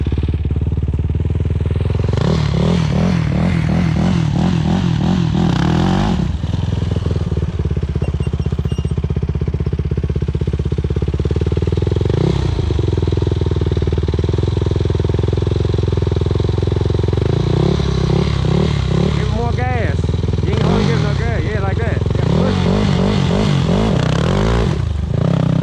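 A motorcycle engine revs hard in repeated rising bursts during wheelie attempts, loud and close, with the throttle opening and easing off several times and a rougher idle in between.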